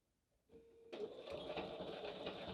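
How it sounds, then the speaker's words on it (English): A sewing machine stitching a fabric coaster starts with a brief whir, then settles into a steady, close mechanical hum with a fast even rhythm of needle strokes, no voices. "we're going to sew 1/4 of an inch from the edge"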